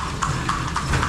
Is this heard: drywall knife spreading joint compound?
no